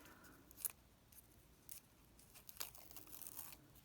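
A small tear opened in the adhesive backing of a scrap of fabric for slow stitching, heard as faint brief ripping and crinkling sounds in two short bursts, quiet and close, with no talking.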